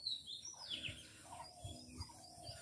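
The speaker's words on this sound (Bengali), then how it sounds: "পাখির আওয়াজ শুনতেছেন?" Birds chirp beside a large lake, with scattered high tweets and calls over quiet ambience, fairly faint and without speech.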